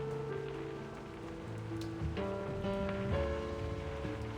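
Rain falls in the video game Reverse: 1999 as a steady soft hiss beneath sustained musical tones, with no speech over it.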